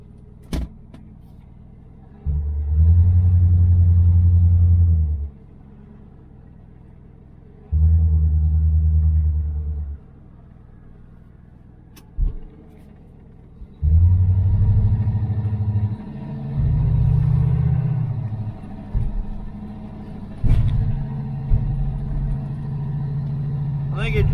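A 1978 Dodge Aspen R/T is driven, its engine rumbling in loud bursts that swell and drop as it pulls away and shifts, separated by quieter idle stretches with a few sharp clicks.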